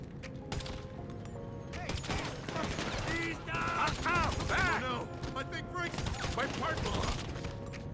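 Gunfire in the video game GTA Online during an Agents of Sabotage mission, with repeated loud shots and bursts amid busy game sounds and music over the full stretch, under someone talking.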